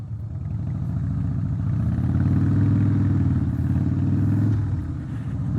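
A Harley-Davidson Breakout Softail motorcycle accelerates on a test ride, its V-twin engine throbbing loud and close in a steady rumbling pulse that swells and then eases slightly.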